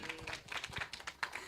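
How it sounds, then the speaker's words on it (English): Scattered hand claps from a small audience at a talk on science and Christianity, soft and brief, with irregular individual claps rather than a full roar of applause. "If we can give him a round of applause."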